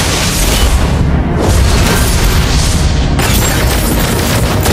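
A turret is destroyed in a Pharsa video game match, with a loud, dense booming explosion and crackling debris roaring continuously throughout.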